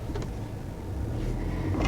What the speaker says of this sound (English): Now that was our auto start stop system.